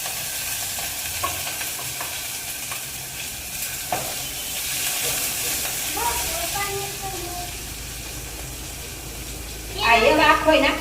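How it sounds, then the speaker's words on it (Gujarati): Onion tempering in hot oil crackles and hisses in a home kitchen, a low steady sizzle with scattered pops, then bursting into a louder spattering sizzle near the end as something is added. "આ ડુંગળીનો વઘાર કરામો છે."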